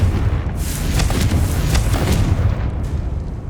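Confringo blasting spell in Hogwarts Legacy, a loud booming explosion with rumbling low end and a few sharp crackling bursts, played alone and close.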